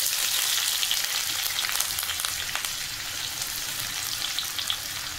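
Chopped garlic and onion sauté in hot oil with a bright, continuous sizzle that eases slightly over time, with faint stirring clicks and no voices.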